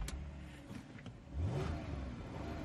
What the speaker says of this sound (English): So let's start up this supercharged V6 and see what we hear.